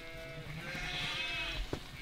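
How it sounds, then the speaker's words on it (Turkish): Sheep bleat repeatedly in a chorus, with overlapping wavering cries over a low rumble of outdoor noise. "Getirdin koyunları."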